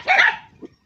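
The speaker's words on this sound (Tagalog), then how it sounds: "Nandito yung mga aso." A dog barks once loudly up close, the short harsh bark fading out, with a smaller yip or whimper following faintly a moment later, no voices.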